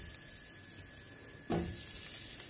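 Smoked sausages (smokies) land in a hot grill pan still fragrant with onions, setting off a sudden louder sizzle that then holds as a steady close crackle, with no talking.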